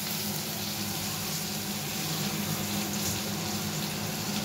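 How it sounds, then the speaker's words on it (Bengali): Water from a rinsed bowl poured into a masala of onion, garlic, ginger, cumin, coriander and red chilli powder, giving a steady close splashing hiss that runs unbroken throughout. "একটু জল নিয়ে বাটিতে ধুয়ে, বাটি ধুয়ে জল দিয়ে দে।"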